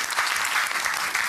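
A brief burst of studio audience applause on a game show, dense and even clapping filling the moment, with no talk over it.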